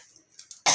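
A single short cough breaks out sharply and loudly at the very end, after a moment of near silence broken only by faint breaths.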